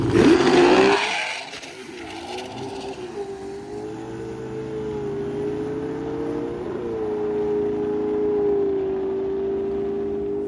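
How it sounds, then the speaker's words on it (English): A drag racing car launches with a laboring clutch at Drag Week 2025. A loud burst at the start gives way to a sustained, wavering engine drone that strains and slowly builds over about ten seconds, with no voices. "you could hear how bad the clutch was laboring on that one"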